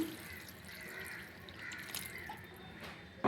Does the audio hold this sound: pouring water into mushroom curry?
yes